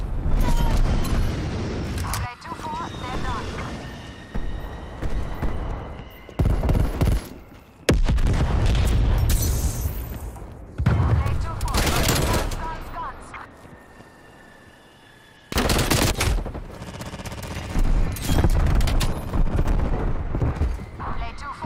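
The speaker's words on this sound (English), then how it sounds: "TACOM, get a strafe run inbound." A strafe run in Call of Duty Black Ops Cold War on the Nuketown map: repeated loud bursts of rapid gunfire and impacts, separated by short gaps, with a voice speaking between volleys.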